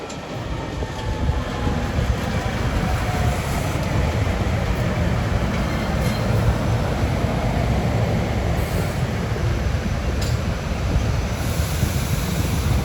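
SEPTA passenger train 1539 from Philadelphia to Thorndale rolling past the Overbrook maintenance facility, a loud, sustained rumble and wheel roar that holds steady for the whole stretch, with faint high rail squeals on top and no voices.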